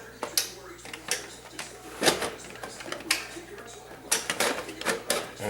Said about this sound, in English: we're just going to simply push it in through the front on its rails